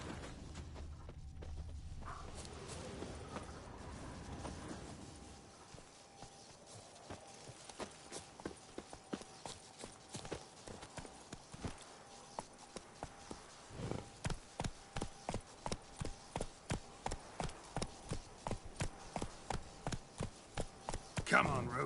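Geralt's horse Roach in The Witcher 3, hooves striking the ground in a fast, regular clip-clop that builds from slower steps into a steady gallop, growing louder toward the end.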